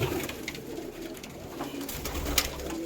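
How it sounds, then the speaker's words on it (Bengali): Soft, low pigeon coos repeating faintly against a steady background hum, with a few light bird chirps. "এই হচ্ছে পায়রা"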